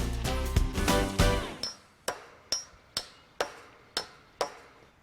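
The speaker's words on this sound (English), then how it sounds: "Okay, give Brad the other hammer." Hammer driving spikes into a wooden post, toenailing it at an angle. A loud clattering start gives way to about seven sharp, evenly spaced metallic strikes, close and ringing, with no voices.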